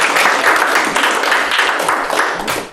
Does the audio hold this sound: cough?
no